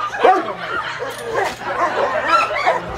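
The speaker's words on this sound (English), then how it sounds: "Hey, your dog's right over here, number 9." Dogs at a pig roast yip and bark in a busy, crowded scene, with several excited, overlapping calls under ongoing talk and background noise.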